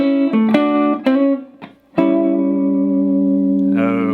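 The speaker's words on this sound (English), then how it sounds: "We're going to be learning a lick that utilizes double stops. It's going to sound like this." An electric blues guitar plays a major-flavored lick built on double stops, ringing two-note bends and slides with effects-unit tone and reverb, heard clearly on its own.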